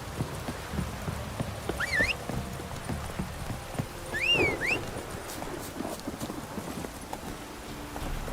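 Horse hooves clip-clop steadily on the ground in The Witcher 3, a continuous trotting rhythm at moderate volume, with faint in-game ambience and a couple of brief tonal whistles over it.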